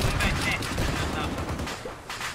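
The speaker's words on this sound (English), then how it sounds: "Oh, autocannon." Heavy automatic fire in Arma 3 Antistasi, a dense continuous barrage of loud booming shots with scattered blasts, filling the whole moment without pause.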